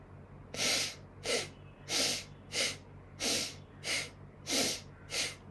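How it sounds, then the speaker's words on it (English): Bhastrika bellows breathing in yoga pranayama practice, eight forceful, rhythmic breaths that switch between inhale and exhale, each a loud, breathy rush of air about two thirds of a second apart, with no talking. "bellows breath, Bhastrika"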